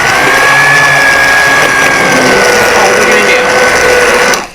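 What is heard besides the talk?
immersion blender blending refried beans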